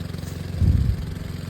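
A motor boat engine runs on a river where three rivers meet, a close, steady low chugging drone that swells briefly partway through, with no voices.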